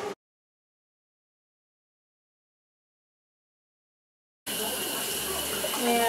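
Water pours into a pot in a home kitchen for cooking beef stroganoff noodles. After a long silence, a loud steady gush starts late and runs to the end.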